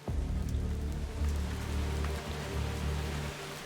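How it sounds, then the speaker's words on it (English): Heavy rain falls in Valencia as a steady, fairly faint hiss of drops on surfaces, unbroken and without voices for a few seconds. "By 7:30 on the morning of the 29th of October, Valencia was already receiving heavy rain."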